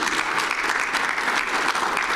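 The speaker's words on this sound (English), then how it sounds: "Can you give Mr. Obari Chapman a round of applause" Dense audience applause at a mental health conference, steady and continuous throughout with no voices over it.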